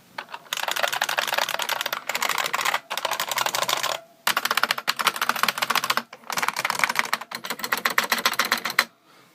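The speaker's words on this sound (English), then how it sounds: "when we're talking about noisy keyboards, here's a model MSSK." Clicky buckling-spring typing on an IBM Model M keyboard, loud and close, in rapid bursts of dense keystrokes separated by short pauses.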